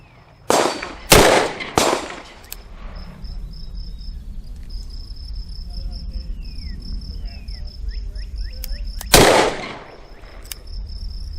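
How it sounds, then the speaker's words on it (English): Gunshots from a Ruger Alaskan revolver chambered in 454, firing 45 Super loads across a chronograph outdoors, three sharp loud reports in quick succession, then a lone fourth shot after a pause, over a steady chirping of crickets. "Now we're going to test 45 Super across the Alaskan and get the chronograph numbers as well."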